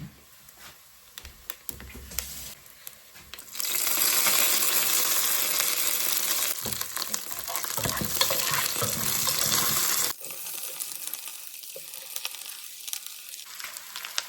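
Coconut pieces and frozen curry leaves sautéing in a pan for a beef curry. A loud, steady sizzle with stirring fills the middle stretch, then drops to quieter scraping and faint frying toward the end.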